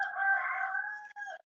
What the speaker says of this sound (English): is that a rooster?